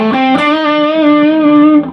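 Distorted electric guitar playing the second section of a solo in its live version, a single sustained bending lead note ringing loud and close for about two seconds before cutting off.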